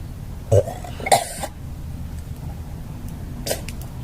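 A girl lets out a few short, loud throaty burps spaced a couple of seconds apart, close to the microphone, over a low room hum with no talking.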